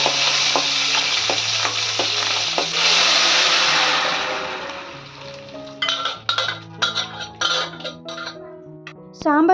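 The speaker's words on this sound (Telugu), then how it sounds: "సాంబార్ బాగా మరిగిన తర్వాత తాలింపు పెట్టేశాను" A tempering for sambar crackles and sizzles loudly in hot oil for several seconds. The frying then fades into a run of clinks and knocks from a spoon and cookware.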